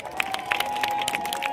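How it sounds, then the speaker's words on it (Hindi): Crowd at a Muslim colony gathering welcoming former MLA Santosh Chaudhari with applause, a steady wash of clapping and cheering at moderate distance with scattered sharper claps. "तालियों से स्वागत करें दोस्तों।"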